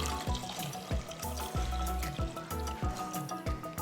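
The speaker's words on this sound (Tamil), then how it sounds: "3 cups ஆஃப் வாட்டர் நான் அளந்து வச்சுருக்கிறேன். ஸோ அப்படியே நான் வந்து இதில் ஆட் பண்ணிக்கிறேன்." Water poured into a cooking pot for vegetable nonbu kanji, a steady liquid splash running throughout with repeated low thuds at a regular beat, close and fairly loud, no voices.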